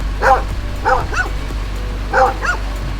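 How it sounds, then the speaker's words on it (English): Dogs aboard an anchored boat give sharp, close barks in quick pairs, three bursts within a few seconds, loud over a steady low background rumble with no voices. "And 2 very vicious dogs."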